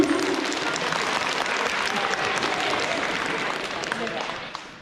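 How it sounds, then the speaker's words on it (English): Children and adults at a K-2 school awards ceremony clap together in a sustained, even burst of applause lasting several seconds, tapering slightly at the end, with a voice faintly under it. "Let's clap for them."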